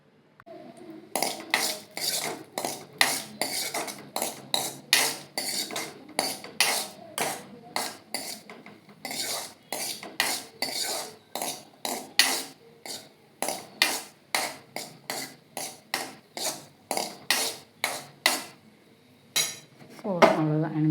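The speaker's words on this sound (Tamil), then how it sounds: "முந்திரி தாளித்து கொட்டிட்டு அப்போ காட்டுறேன். தாளிக்க போகிறேன் இப்போ தான்." A long run of sharp metallic clinks and scrapes, a spoon knocking and stirring cashews tempering in a pan in a steady, busy rhythm, close by with no talking.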